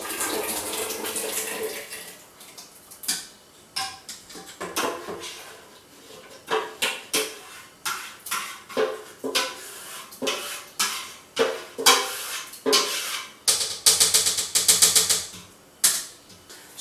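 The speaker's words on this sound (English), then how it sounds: "We're going to put that back into the main pot and also transfer from the intermediate pot." Blended pumpkin soup goes back into the main pot as repeated pours and metal scrapes, with a series of distinct clanks and splashes, loud and close, spaced at irregular intervals.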